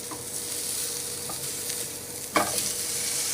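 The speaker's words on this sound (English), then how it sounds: "Give them a flip, see what they're looking like on the other side." Lamb burger patties fry in a pan with a steady, close sizzle throughout, broken by a soft scrape and a sharper clatter near the end as the quarter-pound patties are flipped.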